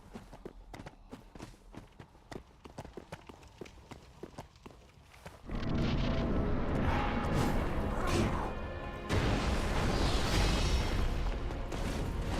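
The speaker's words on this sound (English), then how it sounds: "We need to figure out how to dodge those AoE explosion" Boss area-of-effect explosions in Dark Souls 3 erupt as loud, sustained rumbling blasts that swell after a stretch of lighter footstep-like thuds and clanks, with a brief dip before a second surge.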